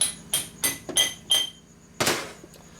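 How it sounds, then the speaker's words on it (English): A hammer strikes a steel part during a Harley-Davidson Evolution engine lower-end rebuild, five ringing metallic blows in quick succession, a short pause, then one louder final hit, each leaving a brief bright ring. "Hammer on steel part is good."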